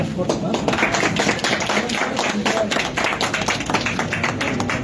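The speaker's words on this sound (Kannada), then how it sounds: "ಚಪ್ಪಾಳೆ." Audience applause at a Bigg Boss Kannada honouring event for Varthur Santhosh, a dense continuous patter of many hands clapping at steady loudness for about five seconds, with voices mixed in underneath.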